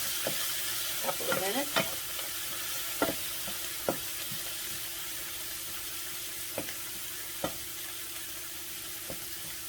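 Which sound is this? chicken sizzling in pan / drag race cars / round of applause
chicken sizzling in pan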